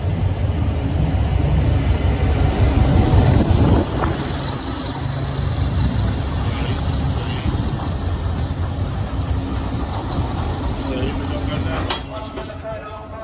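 Class 201 Thumper diesel multiple unit departing a station on the Hastings–Guildford line, a loud low diesel rumble at first that eases into steady rolling rail noise, with a sharp wheel squeal near the end.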